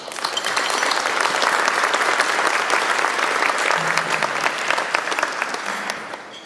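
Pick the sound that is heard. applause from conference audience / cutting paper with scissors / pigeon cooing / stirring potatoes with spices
applause from conference audience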